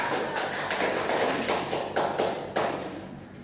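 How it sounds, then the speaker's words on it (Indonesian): Classroom applause for the second group, a dense patter of many hands clapping close and steady, swelling briefly a few times before thinning toward the end. "Berikan aplaus kepada kelompok kedua."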